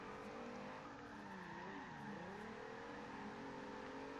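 A VW R32 drifts in the racing game Forza Horizon 2, its engine droning steadily while the tires squeal in a long continuous slide, with the pitch dipping and rising partway through.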